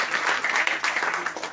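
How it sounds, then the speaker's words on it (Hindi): A brief burst of audience applause at the closing program of a national literary seminar, a quick, dense round of clapping lasting under two seconds at an even, moderate level. "उनके लिए जोरदार तालियां हो जाए।"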